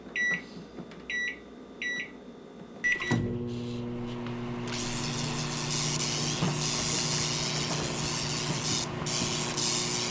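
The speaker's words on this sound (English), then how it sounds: "You shouldn't put a spoon in a microwave" A microwave oven with a spoon inside gives several keypad beeps, then starts with a steady humming drone, and a loud hissing, crackling spray of noise builds over the hum and keeps going.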